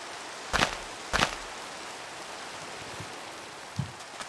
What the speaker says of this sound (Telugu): ఈ వర్షం ఎందుకు పడుతుంది?